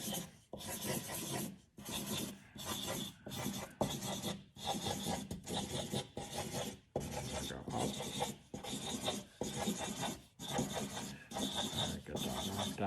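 Quiet, rapid pencil scribbling on paper in short bursts of rasping strokes with brief pauses between them, close up.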